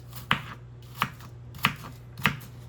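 A knife slicing through a tomato on a cutting board while making a vegan meal, four sharp, evenly spaced cuts over a low steady hum, close and moderately loud.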